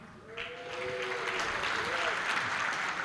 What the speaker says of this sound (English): I'm not hearing all the applause.